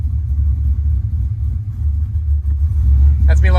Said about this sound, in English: That's me letting the clutch out.